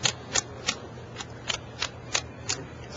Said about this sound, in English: Yeah, they're shuffling up.